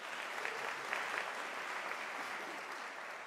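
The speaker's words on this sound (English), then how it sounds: "a warm round of applause again for Professor Shezi for sharing that" Sustained applause fills a hall at a University of South Africa autumn graduation ceremony as the audience thanks a professor, a fairly soft, even wash of many hands.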